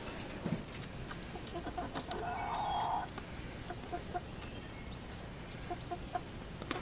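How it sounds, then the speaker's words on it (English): A flock of chickens clucks steadily while pecking at homemade rabbit treats made from juicer pulp. The clucking is continuous and moderately close, with scattered higher calls over a busy outdoor background. "Well, the chickens are tearing it up."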